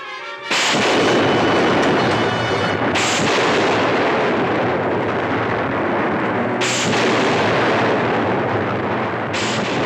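Sci-fi weapons fire continuously at a force field in a Lost in Space TV episode, a dense, loud barrage of blasts and rumbling bursts that begins abruptly and keeps going with no talk.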